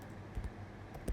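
Quiet, close keystrokes on a computer keyboard, a few soft clicks in a short burst over low background hum.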